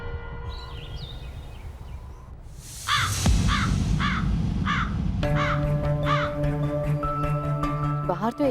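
Several harsh crow caws repeat in short bursts, fairly close, over a steady background drone and faint voices.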